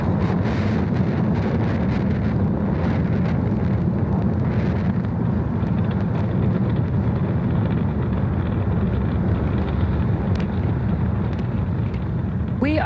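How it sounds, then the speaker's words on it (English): A SpaceX Falcon Heavy rocket climbing after liftoff on the ViaSat-3 mission, a steady, dense, continuous roar with heavy low rumble and wind-buffeted crackle that stays loud and unbroken throughout. "We are 30 seconds into flight under the power of 5 million pounds of thrust."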